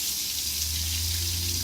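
Rinnai tankless water heater igniting while hot water runs from a nearby tap, giving a steady rushing water hiss with a low burner hum underneath, close and continuous.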